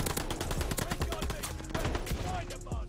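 Rapid gunfire from an MP40 submachine gun in the shooter Call of Duty: Vanguard, dense bursts of close, loud shots running throughout, with faint voice chatter mixed underneath.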